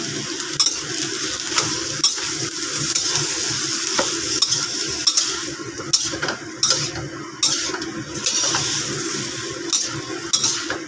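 Beef stir-frying in a pan with tomato and onion: a continuous close sizzle broken by scraping stirs and metal utensil taps against the pan, no voices.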